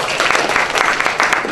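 An audience at an education policy forum applauds a presenter, a dense, continuous burst of many hands clapping, close and fairly loud throughout.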